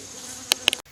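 Honey bees feed at a syrup feeder in the afternoon, a faint steady buzz with a few brief louder passes close by before it cuts off.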